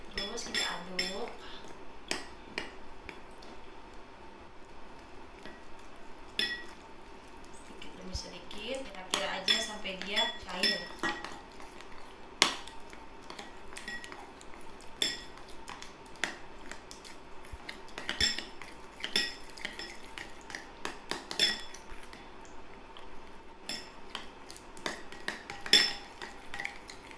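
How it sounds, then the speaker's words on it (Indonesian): Corn flour batter is stirred in a bowl with a utensil, making repeated scraping clinks and taps against the bowl, with the wetter sloshing later as water is added bit by bit. Soft talk runs underneath. "Kita aduk, lalu kita masukin air sedikit demi sedikit"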